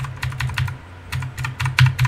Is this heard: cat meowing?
no